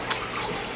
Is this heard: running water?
yes